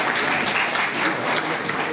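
A steady, dense burst of audience applause at a business gathering in Moradabad, the clapping filling the whole stretch at an even level without letting up.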